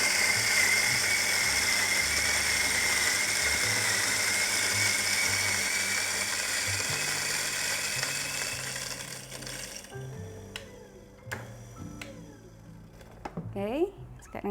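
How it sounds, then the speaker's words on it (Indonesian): A Latina 600N coffee grinder grinds coffee beans for espresso with a loud, continuous motor whir for about ten seconds, then winds down into lighter clicks and handling noises while a person talks nearby. "Jadi langsung aku giling aja ya."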